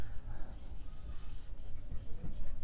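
A pen scratches across paper in short, quick strokes while working out a math problem, close and clear, with a quiet voice murmuring in the background.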